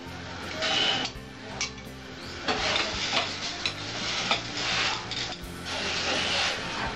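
A bay leaf frying in hot oil for a Bengali-style red spinach dish, giving a steady crackling sizzle with scattered ticks and pops, stirring scrapes, and a low background hum.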